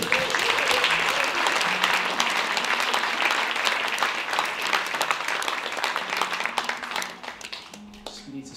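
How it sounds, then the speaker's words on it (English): Sustained audience applause in an indoor church-style family gathering, loud and dense with steady clapping that tapers near the end as a voice briefly comes in. "Can we give Jenny a clap?"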